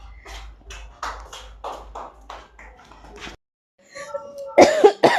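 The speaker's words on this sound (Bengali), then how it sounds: "এখানে এসে অনেক কাশিও হয়ে গেছে, ঠান্ডা লেগেছে।" A woman with a cold speaks briefly, then after a short pause coughs several times in a row, loud and close, the harsh coughs bunched together at the end.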